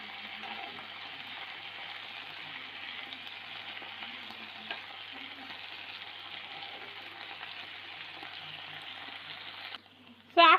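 A steady, even sizzle of amla chutney ingredients frying in a pan runs throughout with no voice, ending in a brief louder clatter.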